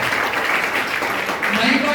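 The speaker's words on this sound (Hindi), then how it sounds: "मैं चाहूंगा एक बार जोरदार तालियां" Brief burst of audience applause at a health and wealth awareness program, steady clapping filling the whole moment with a voice faintly underneath.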